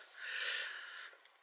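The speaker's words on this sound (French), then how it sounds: "Je suis désolée, je renifle, c'est horrible." A single close, breathy sniff through the nose, soft and brief, rising then fading.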